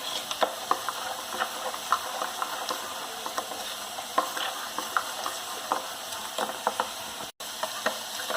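Onions about half fried in a pan for a curry, a constant close sizzle with scattered scraping clicks of stirring, no voices.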